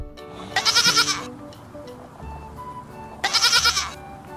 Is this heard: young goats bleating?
yes